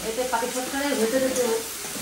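Grated coconut frying with sugar in a pan for a sweet filling, a soft sizzle with stirring scrapes, close by, while a voice murmurs faintly in the background.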